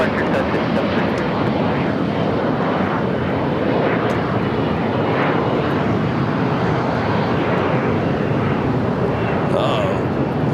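A JetBlue jet taking off from runway 25 right at LAX, a loud continuous roar of engines at full thrust filling the whole stretch, with faint voices under the noise.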